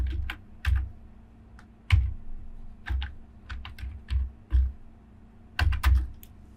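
A music title typed on a computer keyboard, close and clear key clicks in short irregular bursts with quiet gaps between, a faint steady hum beneath and no talking.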